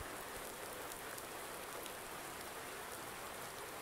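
Steady, even hiss of rain falling in Farming Simulator 19 on the Felsbrunn map, a constant wash of drops with no gaps or talk, fairly quiet throughout.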